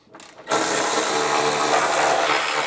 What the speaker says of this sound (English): we're going to remove these axle shield bolts, there's two of them